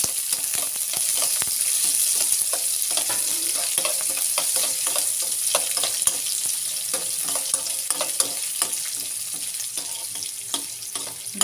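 Onion and red chili fry in hot tempering oil for a drumstick leaf palya, producing a loud, continuous sizzle with frequent crackles and pops that carry through the whole stretch with no talk.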